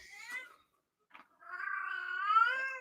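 A domestic cat meows close and clear: a short chirpy call, a pause with a tiny sound, then a long drawn-out rising meow, with no talking over it.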